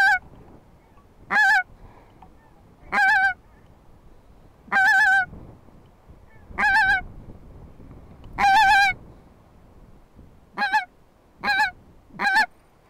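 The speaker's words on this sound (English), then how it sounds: "Little geese coming." Wild geese honk as they fly in toward decoys in a Scottish field, arriving in about eight separate bursts of layered, nasal calls spaced across the stretch, each loud and close over a quiet background.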